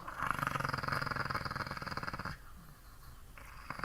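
A dog growls low and continuously, a rough rumbling with a steady pulse that stays close and loud, then cuts off into quieter background noise.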